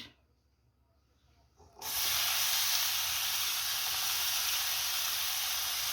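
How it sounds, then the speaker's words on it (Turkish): After a quiet moment, a loud steady hiss and sizzle bursts up close as onions hit hot olive oil, then keeps frying evenly without pause. "Soğanımı kavuracağım."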